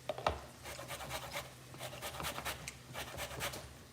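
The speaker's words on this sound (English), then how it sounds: "I'm using a microplane or a rasp or whatever, and I'm just going just the surface." Citrus peel zested on a microplane rasp, a close, faint series of quick dry scraping strokes in an uneven rhythm, heard alone without speech.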